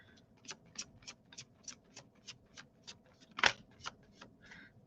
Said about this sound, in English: Another good shuffle.